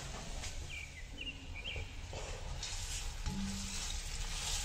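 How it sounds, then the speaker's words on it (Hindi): Finely chopped onions fry in hot oil with a steady, close sizzle and occasional stirring scrapes, while faint bird chirps sound in the background. "अब प्याज को इसमें लाइट गोल्डन ब्राउन कलर होने तक फ्राई कर लेना"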